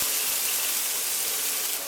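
Chopped onion sizzling in olive oil in an oven dish, a steady close hiss and crackle of frying that holds evenly throughout without talk.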